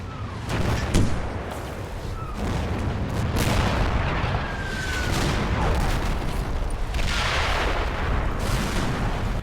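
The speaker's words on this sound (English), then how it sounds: "I get things going with an extended artillery barrage using my 150mm guns and both on-map and off-map 81mm mortars." An extended artillery barrage from 150mm guns and 81mm mortars in the Combat Mission: Red Thunder war game, with continuous rumbling booms, overlapping blasts and whistling shells at moderate loudness throughout.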